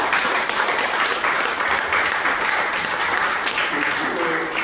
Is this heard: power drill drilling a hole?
no